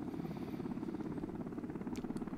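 An MH-60L Black Hawk helicopter in the video game Arma 2 drones steadily, a dense pulsing rotor and engine roar holding loud and unbroken throughout with no voices.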